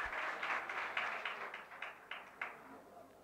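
Audience applause at a lecture: a faint, distant patter of clapping that comes in uneven waves and fades out over a few seconds.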